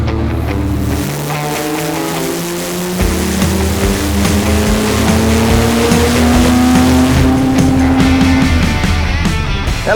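A diesel daily driver with a Holset HX35 turbo and no downpipe accelerates hard under boost. The engine note climbs steadily for several seconds from up close, loud and continuous.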